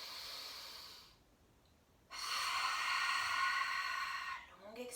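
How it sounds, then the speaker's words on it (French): A long inhale drawn in through the nose during a calm yoga breathing exercise, a soft airy hiss that swells for a second, pauses, then resumes and fades. "À nouveau, longue inspire."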